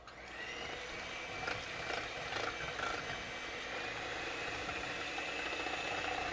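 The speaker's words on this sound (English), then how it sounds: "beat the eggs as high as you can get your hand mixer to go" An electric hand mixer whirs at high speed, beating three eggs for a pecan pie filling; a steady, fairly quiet motor drone with a few faint clicks and scrapes of the beaters against the bowl.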